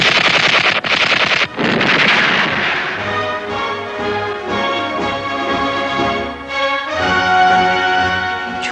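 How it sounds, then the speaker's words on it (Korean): A heavy machine gun fires at enemy aircraft in a wartime documentary, loud, sustained rapid bursts with booming reports that run almost continuously, close and alone with no talk. "중기관총으로 한 달 동안에 적기를 10대나 쏴떨군"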